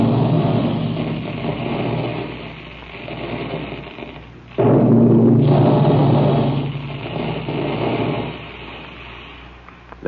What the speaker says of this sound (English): That's the sound you hear when puffed wheat and puffed rice are shot from special guns in the Quaker plant